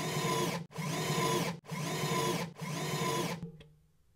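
A drill driving screws into wooden end table bases, four sustained whirring runs of about a second each separated by short pauses, close and clear, ending with a faint click.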